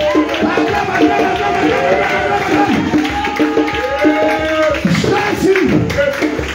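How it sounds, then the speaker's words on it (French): Church congregation at an evening worship service cheering and acclaiming Jesus, loud continuous crowd voices with scattered clapping, shouts rising and falling throughout. "Est-ce que tu peux acclamer Jésus?"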